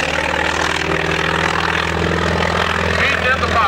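A propeller airplane passes slowly at a mid-1990s airshow in Muirkirk, its engine a loud, steady droning hum that holds throughout with a slight swell near the end.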